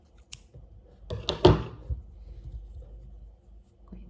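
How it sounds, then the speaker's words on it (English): Scissors snip through yarn from a crochet cardigan, a few quick, close clicks and cuts with a cluster of sharp snips in the middle, followed by faint handling noise. "And then we can cut the yarn."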